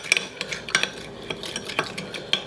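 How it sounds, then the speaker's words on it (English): Spoon clinking against a bowl while stirring mayonnaise dressing with sugar, a quiet series of irregular light taps and scrapes close by. "And let's just stir it all together."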